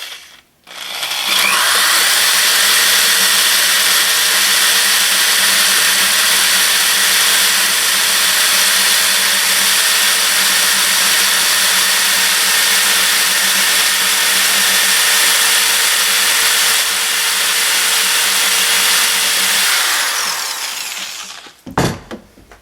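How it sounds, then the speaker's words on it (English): Steady, loud whine of a power drill running for about twenty seconds as it winds serving thread onto a bowstring, holding one even pitch, with no speech, then cutting off at the end. "I'm going to use a drill to expedite."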